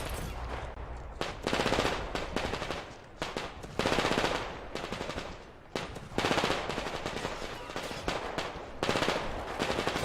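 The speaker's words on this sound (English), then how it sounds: "I suppose they are all shooting at her" Enemies in Metro Exodus unleash sustained machine-gun fire, long rattling bursts separated by short pauses, loud and close with no talk over it.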